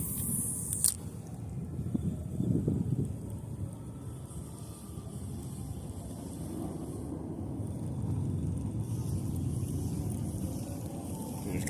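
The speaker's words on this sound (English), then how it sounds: "There's got to be 100 motorcycles driving by." A crowd of motorcycles streams past on a road near the Milwaukee River, making a steady, loud, low rumble like distant thunder that swells slightly toward the end and never breaks.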